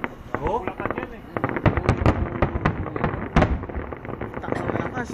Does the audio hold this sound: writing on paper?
no